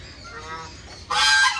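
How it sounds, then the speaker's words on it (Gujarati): Geese in a city garden give a loud, harsh honk near the end, close by, after a brief stretch of softer calling and background noise. "રખડતા રખડતા આપણે હંસ બી જોવા મળ્યા"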